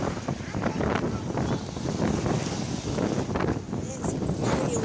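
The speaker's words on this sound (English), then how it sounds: "It's very wet, windy, miserable." Wind gusts roar and buffet the microphone outdoors on a wet, windy day, a steady loud rush with brief swells, while people talk over it.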